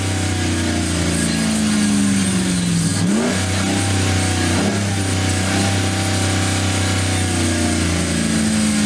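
A 2014 Ram truck engine runs loud and close through a Flowmaster exhaust, holding a steady deep drone with a brief dip and swell in revs partway through.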